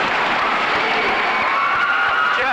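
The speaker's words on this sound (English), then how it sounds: "And listen to this crowd." A high school basketball crowd roars and cheers in a gym, a dense sustained wash of voices and clapping with no break.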